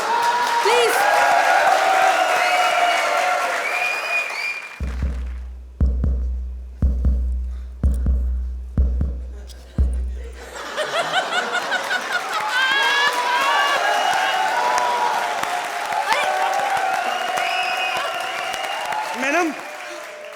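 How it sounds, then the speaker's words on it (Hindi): A comedy show audience breaks into loud applause and cheering, with a rhythmic stretch of heavy thumping beats in the middle before the crowd noise swells again, voices shouting over it. "बच्चों, जोरदार तालियां।"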